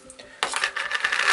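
A jar holding copper coins soaked in soap is opened, with a short scrape, then a bright metallic clinking and rattling of coins, close and fairly loud.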